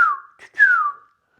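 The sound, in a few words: imitated whistling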